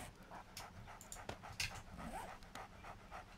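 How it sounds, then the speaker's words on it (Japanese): A dog pants in the 7 Days to Die zombie survival game, steady quick breaths with a faint whimper, quiet and alone against soft game ambience. "犬もいるよ。"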